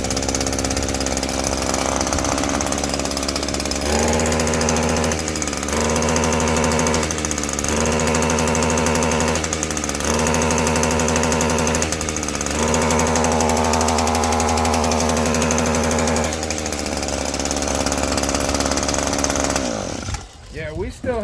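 An Echo stick edger's two-cycle engine idles roughly, then revs in repeated bursts roughly every couple of seconds, each one sagging and bogging down. The engine is loud and close throughout.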